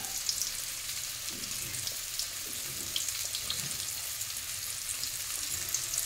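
Lechon kawali pork frying in a pan of hot oil over low heat, a steady close bubbling sizzle with small crackles and pops running continuously, no voices.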